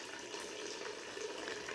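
Water flows softly and steadily through an indoor garden water feature in a pavilion-like room, a faint continuous trickle with no voices.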